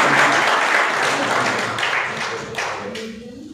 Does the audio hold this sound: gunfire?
no